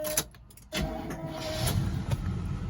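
A car cranks over and catches after a new ignition coil is fitted. Starting from near silence, there is a brief click and rattle, then the engine fires and settles into a steady, fairly close idle with a few light knocks over it.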